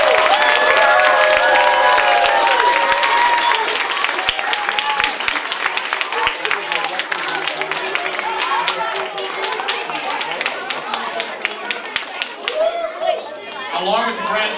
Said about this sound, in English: Let's have another round of applause for these boys.